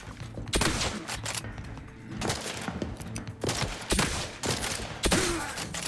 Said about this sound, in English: My hip firing wasn't quite nailing the shots.